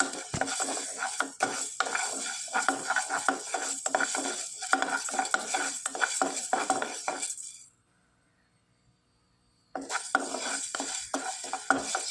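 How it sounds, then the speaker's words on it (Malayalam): A spoon stirs green gram (mung beans) dry-roasting in a pan, giving steady scraping and clinking scrapes. A two-second silent gap breaks the stirring before it resumes. No one speaks. "ഒന്നുകൂടെ ഒരു ടേസ്റ്റ് കിട്ടാൻ വേണ്ടിയാണ് ഈ ചെറുപയർ വറുത്ത് ചെയ്യുന്നത്"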